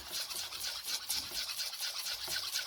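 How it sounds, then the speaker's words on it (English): Flour being whisked for homemade pancake batter in a village kitchen, a rapid, bright brushing rhythm of close, soft strokes repeating steadily, with no voices. "You need to whisk your flour"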